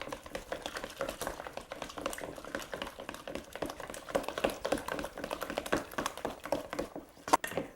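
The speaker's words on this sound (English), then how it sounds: "we're going to beat those together" Two eggs are beaten together in a bowl, the whisk or fork tapping in a quick, steady rhythm of light clicks, near and fairly loud, with a sharper knock near the end.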